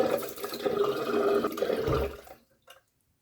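Tap water runs steadily to wet a shaving soap puck, then stops abruptly, leaving a single faint drip before silence.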